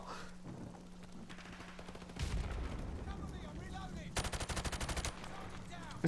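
A G36 rifle fires in a Modern Warfare video game, bursts of rapid automatic gunfire including a fast rattling volley near the end, heard over game noise with a voice talking at times.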